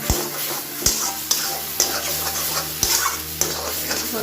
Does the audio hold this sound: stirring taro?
yes